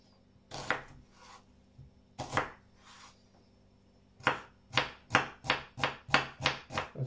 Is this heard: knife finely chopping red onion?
yes